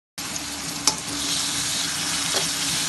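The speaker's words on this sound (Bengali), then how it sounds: "পেঁয়াজ রসুন ভালো করে ভাজা হয়ে গেছে" Onion and garlic frying with turmeric in a pan, a close continuous sizzle with a couple of sharp stirring scrapes against the metal.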